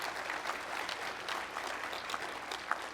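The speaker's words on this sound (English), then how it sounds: "give the whole Argonne team a round of applause" Steady applause from a sizeable audience at a dedication ceremony for Argonne's Advanced Photon Source, soft and somewhat distant, an even patter of many hands with a few sharper claps standing out.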